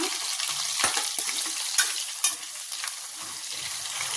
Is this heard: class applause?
no